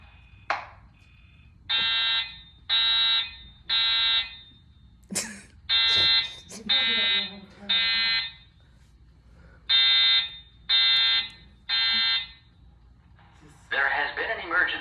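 A building fire alarm sounds in repeated loud electronic beeping bursts in groups of three, with a spoken evacuation announcement and brief noises between the tones, then a different buzzing tone at the end.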